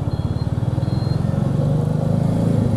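City traffic on a busy riverfront bridge in Ahmedabad, heard from a Royal Enfield Meteor 350, with a steady close motorcycle engine thrum and a pulsing low rumble running continuously, no talking.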